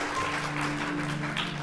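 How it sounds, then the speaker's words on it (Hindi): Applause for a student receiving a prize at a school award ceremony, a steady patter of many hands clapping indoors at moderate volume. "चलिए, जोरदार ताली होनी चाहिए इनके लिए"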